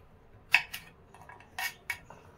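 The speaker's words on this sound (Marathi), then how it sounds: "हे सगळी भेंडी मी अशीच ह्या पद्धतीने चिरून घेते" A knife slits fresh okra for stuffed bhendi masala on a cutting surface, making a few sharp clicking cuts and soft scraping strokes spaced irregularly, close by with no talk.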